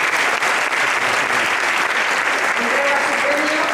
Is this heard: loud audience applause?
yes